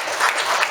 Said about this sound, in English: A big round of applause to the Taca group for hosting this event post-COVID.